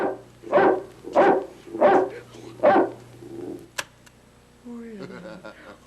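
A dog barks four times in a steady rhythm, loud and close, followed by a sharp click and a brief whimpering sound.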